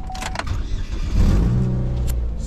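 A Chevy car's engine cranks briefly and then catches, settling into a steady, loud idle close by with no talk.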